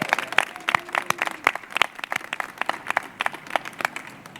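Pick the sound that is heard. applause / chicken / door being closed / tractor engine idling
applause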